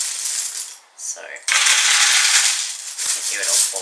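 A handful of LEGO pieces pours into a sorting head, a bright clattering rattle of many small plastic bricks tumbling and settling, interrupted by a brief pause and then a second louder cascade of tumbling pieces.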